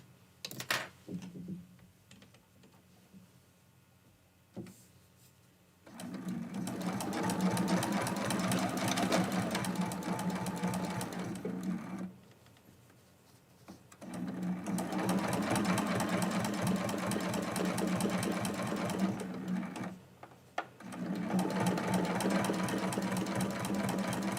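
A sewing machine stitching a Christmas quilt block, running in three long bursts of rapid, even mechanical whirring separated by short quiet pauses and a few clicks, close and alone.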